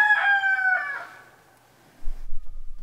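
A homestead rooster crows once, loud and close, its call trailing off after about a second, followed by quiet and then low rustling or handling noise near the end, with no talk.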